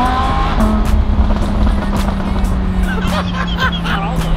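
A Lamborghini on its stock sport exhaust, loud and close, with a steady engine drone and a rising pitch as it revs, while sharp crackles and pops burst repeatedly toward the end.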